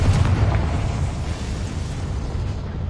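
A Confringo spell explosion in Hogwarts Legacy, a loud broad roaring blast with rumbling debris that decays slowly over a few seconds.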